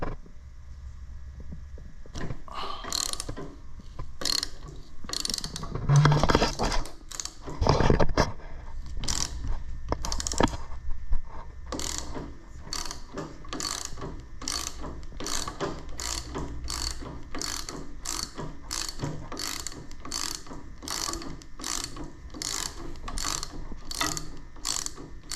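A ratchet wrench clicks steadily as it loosens a single bolt deep inside a Wheel Horse garden tractor under restoration, a long run of sharp, evenly spaced pawl clicks close to the microphone, with a few heavier clunks early on and no talking.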